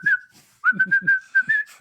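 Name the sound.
whistling a tune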